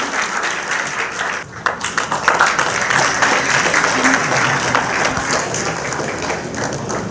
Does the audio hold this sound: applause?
yes